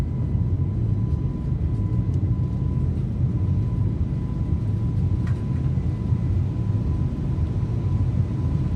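Airbus A321neo engines in MSFS 2024 hold takeoff power as a loud, steady rumbling roar with a faint constant whine over it, continuous throughout.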